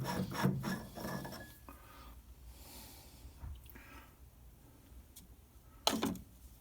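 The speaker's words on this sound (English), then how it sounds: "thread file it" Thread file rasping over the threads of a screw being smoothed, a few short scraping strokes near and fairly soft, quiet pauses between them and a louder final stroke.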